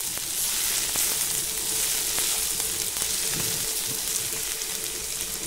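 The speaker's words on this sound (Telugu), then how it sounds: "నేను సిమ్ ఫ్లేమ్లో పెట్టి ఫ్రై చేస్తున్నాను" Ivy gourd pieces fry in oil over a low flame, a steady soft sizzle and crackle running without pause, close and moderately quiet.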